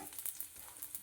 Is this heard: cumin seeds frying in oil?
yes